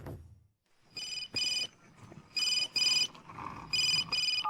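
A mobile phone rings in short repeated bursts of a bright electronic ringtone, fairly close, with brief gaps and faint room noise between the tones.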